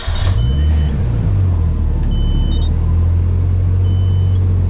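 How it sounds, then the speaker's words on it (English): A car with a new Kenwood Echelon touchscreen stereo fires up, and its engine settles into a loud, steady idle rumble close by, with a few faint beeps over it and no talking. "fire up the car right now just so you guys can kind of see"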